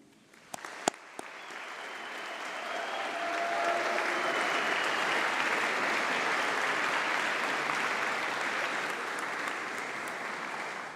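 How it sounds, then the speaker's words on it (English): A graduation ceremony audience breaks into sustained applause and cheering, a dense wash of clapping that starts with a few scattered claps, swells within seconds, and holds steady and fairly distant in a large hall. "let's give a huge round of applause and a cheer, please, to thank all of your supporters"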